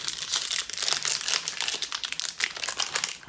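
A sealed Spider-Man collector booster pack wrapper is crinkled and torn open close up, a dense, continuous crackle of foil plastic with sharper rustles through the short stretch and no voices.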